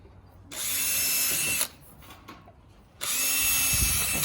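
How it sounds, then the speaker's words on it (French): A power drill bores through a metal piece fitted to a handmade shield, two loud close bursts of high whirring with a quieter pause between them. "Bon, alors on va percer gentiment."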